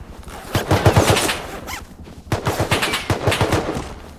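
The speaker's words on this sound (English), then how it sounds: "Stop shooting at me!" Rapid close gunfire in the survival game Rust, two loud runs of automatic shots with a short lull between them, no voices over the shooting.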